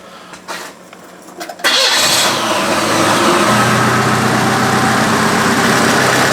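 A car engine cranks briefly, then fires and catches, settling into a loud, steady run close by. Faint movement comes first, and no voices are heard.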